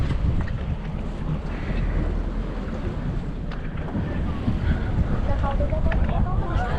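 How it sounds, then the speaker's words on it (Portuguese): Boat engines run at sea as a low, constant rumble under heavy wind buffeting and splashing water, with brief voices talking over the din. "Os motores ligados."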